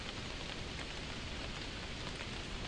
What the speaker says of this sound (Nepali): झरी परेर हेर्नु न गाइस।